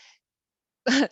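A single sharp sneeze-like burst, loud and close, follows a brief faint breathy sound and near silence during a historian's talk.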